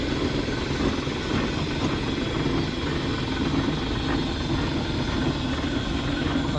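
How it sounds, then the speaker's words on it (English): Classic steam traction engine running at a vintage vehicle show in Scotland, a steady low mechanical chugging rumble at moderate volume, continuous throughout with no talk. "Here we are, folks, classic steam engine."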